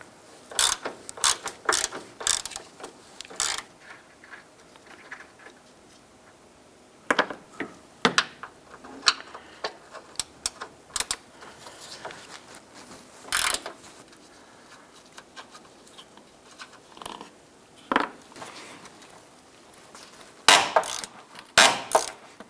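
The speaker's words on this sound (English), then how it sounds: "Using a 13mm socket and our ratchet, we're going to go ahead and loosen and remove these two bolts" A ratchet turning a 13mm socket loosens and removes the upper front strut bolts on a 2008-2013 Nissan Rogue, heard as close, repeated bursts of rapid clicking separated by short pauses, with no talking.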